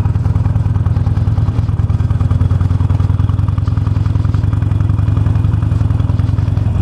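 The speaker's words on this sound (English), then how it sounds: "That's a bike with the car tire." A motorcycle fitted with a car tire rumbles close by on a humid day, its engine pulsing in a steady, even chug throughout with a faint clatter and no voices.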